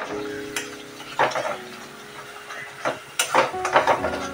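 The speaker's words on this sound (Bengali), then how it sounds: "এইবারে সব উপকরণগুলো একসাথে কিছুক্ষণ কষিয়ে নেব" Cauliflower rezala ingredients, seasoned with salt and tomato ketchup, are sautéed together in a pan. A soft frying hiss sits under a few sharp spoon scrapes and clinks against the metal.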